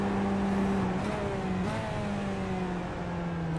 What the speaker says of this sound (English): You can hear how much throttle he's using mid-corner and just squeezing the throttle as he comes out.